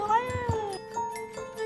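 A cat rescued from the snow meows, a drawn-out, wavering cry followed by shorter meows, fairly close and clear with no talking.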